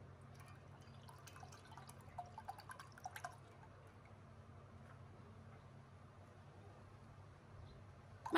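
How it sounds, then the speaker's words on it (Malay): Leftover water is poured into a cooking pot for black glutinous rice porridge, a faint trickle with a few soft drips and splashes and no voices. "Masukkan lebihan air tadi."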